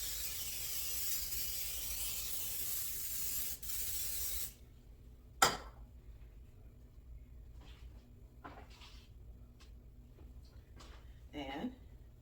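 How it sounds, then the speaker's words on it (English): Cooking spray hisses onto a baking pan in one steady burst of about four seconds, followed by a sharp click and faint handling noises and quiet shuffling. "I'm gonna give it a little spray because we don't want any of this to really stick."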